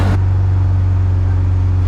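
Rallycross car in the Philippine Rallycross Championship launching from the start line of a run, a loud steady engine drone with a pulsing low rumble that holds throughout, close to the car.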